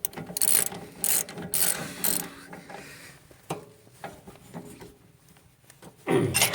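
A ratchet clicks in quick bursts while bolting a part back onto a John Deere 44-inch snow thrower on a 300 series tractor, with close, loud ratcheting strokes separated by pauses and a final burst at the end.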